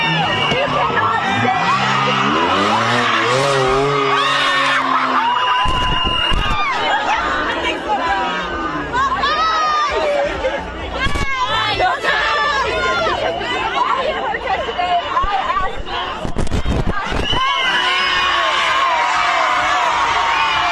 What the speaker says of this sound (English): all these other knuckleheads are just, screaming and having a good time